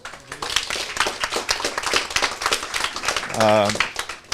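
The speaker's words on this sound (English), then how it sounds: "You should definitely give yourselves a round of applause." Junior chefs at a cooking competition applauding, a small group clapping in a quick uneven patter, close and fairly loud, with a short tonal sound near the end.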